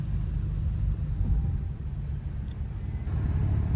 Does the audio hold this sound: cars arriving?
yes